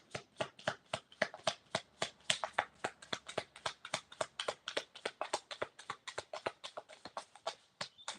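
A deck of tarot cards shuffled rapidly and close, a fast even train of crisp riffling snaps repeating throughout, with no voices.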